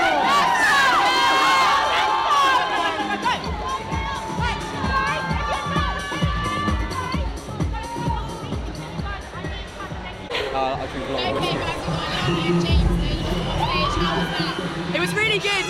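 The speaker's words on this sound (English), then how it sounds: "everyone from IMD family like screaming and shouting, it's great" A lively crowd at an IMD Legion event screams, shouts and cheers, with children's high shrieks and loud whoops over a dense babble of voices that continues without a break.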